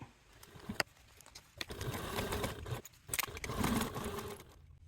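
A sewing machine stitches down the sides of a zipper pocket on a fabric handbag in several short whirring bursts separated by brief pauses, fairly quiet and with no talking.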